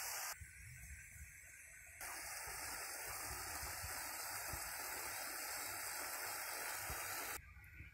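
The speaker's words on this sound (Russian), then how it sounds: "теперь добавляю сюда 200 миллилитров горячей воды" About 200 millilitres of hot water is poured into a cooking pan during meal prep, giving a steady gushing hiss for several seconds that starts and stops abruptly, fairly quiet and with no talk.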